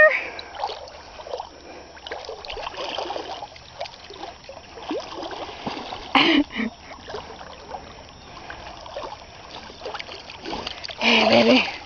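Dog swimming in a river, with soft intermittent splashing and trickling water, a few sharper splashes near the middle and at the end, with faint voices in the background.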